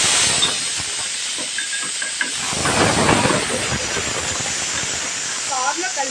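Dry red chillies drop into hot tempering oil for pepper rasam, raising a steady hissing sizzle that runs close and fairly loud throughout, with a voice talking over it.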